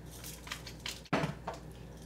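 Creamy cheese grits being stirred in a pot with salt and pepper, soft scraping and squishing strokes with a sharper utensil knock midway, close and fairly quiet.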